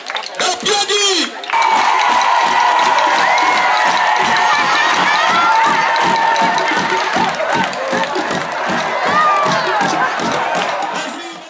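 A crowd at a school renovation ceremony bursts into loud clapping and cheering after a short opening shout, with a dense wash of applause and raised voices sustained to the end.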